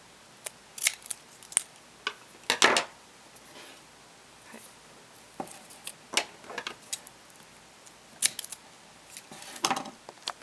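Scissors snip through pieces of tape one after another in crisp, uneven cuts with short pauses between, close and fairly quiet.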